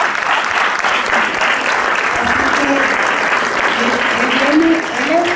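An audience gives loud, steady applause for filmmaker Alex Rotaro, a thick continuous roar of clapping, while a voice speaks faintly beneath it.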